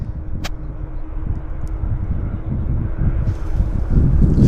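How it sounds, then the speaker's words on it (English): A Lufthansa Airbus A340 classic jetliner pushes back at YVR airport, a steady low rumble with wind buffeting the microphone, swelling slightly louder toward the end. "Lufthansa A340 classic jetliner pushing back for us."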